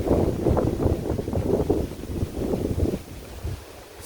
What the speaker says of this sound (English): the wind is moving a little faster here